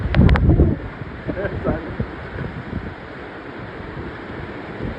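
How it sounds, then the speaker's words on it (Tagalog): Gusty wind from Typhoon Aghon in Lucena City, Philippines roars and buffets the microphone, with a short burst of voices and laughter at the start before the blustery noise continues alone. "Nasa gitna ng bagyo"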